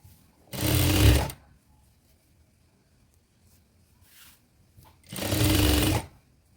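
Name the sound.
sewing machine stitching a collar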